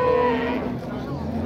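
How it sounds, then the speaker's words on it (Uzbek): A cow at a livestock market gives a loud, close, drawn-out moo that fades away, with some crowd noise behind it. "Chiroyli sigir ekan."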